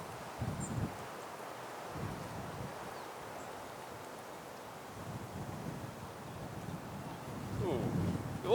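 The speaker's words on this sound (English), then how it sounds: "It is particularly windy today" Wind gusting across the Monte Rei golf course in Portugal, a steady low rumbling buffet against the microphone that swells toward the end, with faint rustling throughout.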